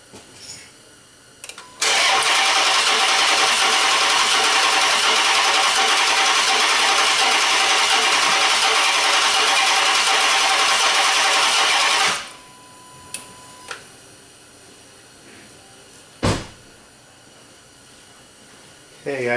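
Chrysler 300 engine with a dead cylinder cranking over for about ten seconds, a loud, steady starter whir with an uneven, lopsided beat that stops abruptly, followed by a few faint clicks and a brief knock.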